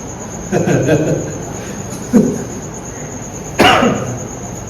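Three separate coughs ring out close by, each a short harsh burst, over a steady high-pitched insect-like whine in the background.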